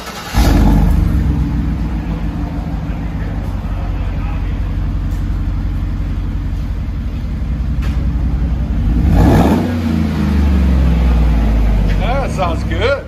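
A 2015 GMC Sierra pickup with a 5.3L V8 and a 5-inch Magnaflow exhaust idles with a deep, loud rumble, then revs sharply about two-thirds of the way through before settling back.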